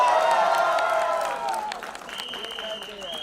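A crowd at a Bollywood film trailer launch claps and cheers in a loud, busy mix, with a voice speaking over the noise and a thin whistle tone sounding toward the end.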